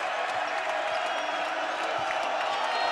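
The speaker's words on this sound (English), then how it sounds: "and now Medlin, he's urging the Spectrum crowd to make some noise" A college basketball crowd in the Spectrum arena at Utah State roars steadily during a game against Weber State, a dense sustained wash of cheering and noise with no pause.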